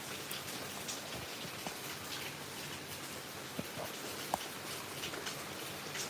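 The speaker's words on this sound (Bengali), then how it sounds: "আজকে তো প্রচণ্ড পরিমাণে বৃষ্টি হচ্ছে" Heavy monsoon rain pours down outdoors beside a flooded field. It makes a steady, faint wash of patter, with a few distinct drops landing close by and no voices.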